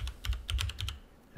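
Quick keystrokes on a computer keyboard while typing a command at a command prompt, a short close run of crisp clicks followed by a brief pause.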